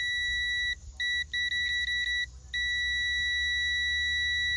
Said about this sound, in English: when the beeper goes off, we actually have contact